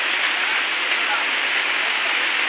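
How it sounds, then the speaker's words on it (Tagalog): Heavy rain pours down in a steady, dense hiss with no letup, close and loud, drowning out everything else. "Lakas ng ulan mga kantero."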